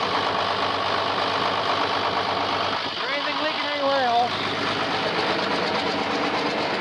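A diesel truck engine runs steadily at close range, a continuous broadband drone. Midway a brief tonal whine rises over it, and the engine keeps running throughout.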